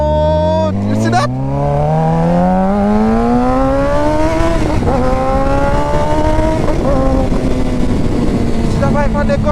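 A Suzuki GSXR motorcycle revs loud and close at night, engine pitch climbing steadily then holding high, with a brief sharp rise near the start and a steady roaring drone through the rest.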